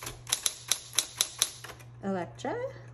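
Sharp, evenly spaced keystrokes from a 1960s Corona Electra 120 electric typewriter, about seven clacks in quick succession over a steady motor hum, followed by a brief voice.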